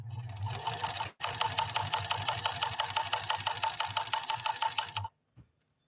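A Pfaff 332 sewing machine runs a straight stitch on cotton, giving a fast, steady mechanical chatter of rapid needle strokes for about four seconds after a brief pause, then stopping abruptly. The motor hum sits underneath.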